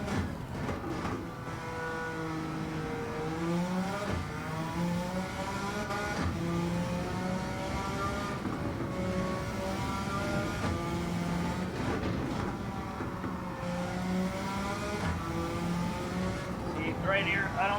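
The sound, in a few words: Suzuki Escudo engine at Nürburgring in Gran Turismo 7 video game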